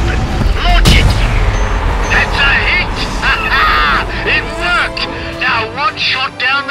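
A torpedo fires and detonates in the sci-fi game Starhawk, a loud deep boom up front followed by rumbling blasts and sweeping whooshes, with chirping electronic tones trailing off.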